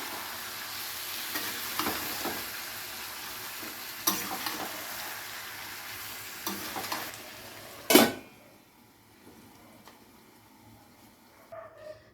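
Marinated chicken with spices frying in a pan, stirred with repeated scraping and clinking strokes over a continuous sizzle, one loud clatter, then a quieter stretch with faint sizzling.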